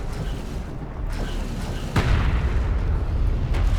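A turret post explodes in the desert strategy game Homeworld: Deserts of Kharak, a sharp boom near the two-second mark that swells into a loud, sustained rumble of blast and debris over continuous game noise.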